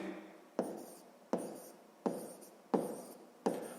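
Someone writes out a sixth-grade math solution by hand, making faint, evenly spaced strokes with short pauses in a quiet room.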